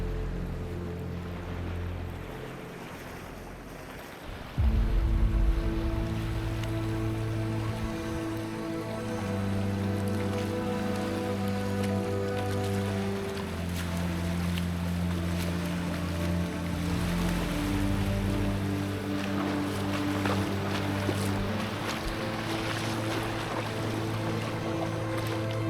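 Small boat carrying passengers across coastal water in Bhitarkanika out to a catamaran, with a steady low engine drone that kicks in after a quiet start and runs evenly throughout over faint water wash.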